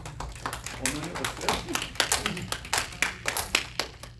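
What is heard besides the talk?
audience clapping for the mothers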